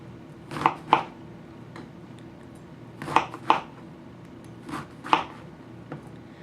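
A knife cuts eggplant slices into strips on a board, giving crisp paired chops in three separated bursts with quiet pauses between.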